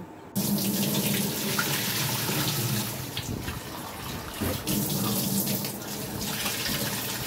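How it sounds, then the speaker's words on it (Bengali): Raw mangoes being washed under running water, a steady close splash and gush of a tap into a sink that carries on throughout with slight shifts as the fruit is handled, with faint talking underneath. "এবার আমি এই আমগুলোকে ভালো করে ধুয়ে নেব।"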